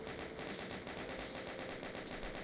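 Rapid-fire game sound effect like many shotguns being loaded in quick succession, a dense stream of fast metallic clacks repeating without pause, steady and fairly faint, with no talk.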